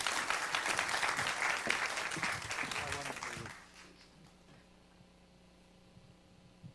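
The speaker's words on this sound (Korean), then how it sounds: "오늘 전화성 대표님은 어떤 얘기를 해주실지 큰 박수와 함께 모셔보도록 하겠습니다." An audience at a lecture claps loudly for about three seconds, then the applause fades quickly into a quiet room.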